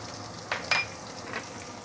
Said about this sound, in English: Once the oil is heated up, we can put in the salted veggie, the pickled veggie, and some of the ginger, and a bit of the chili.